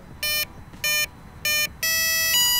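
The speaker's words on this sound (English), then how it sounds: "you need to hear the arming tone" An electronic speed controller sounds its arming tone through a connected motor: three short, loud electronic beeps followed by a longer, higher sustained tone, clear and close with no speech.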